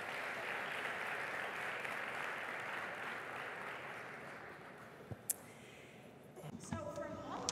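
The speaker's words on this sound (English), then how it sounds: "please give them a round of applause as they join us up here today" An audience claps as panelists join the stage at a COVID-19 summit panel, the applause steady and then fading out, followed by a couple of sharp knocks and a faint voice at the end.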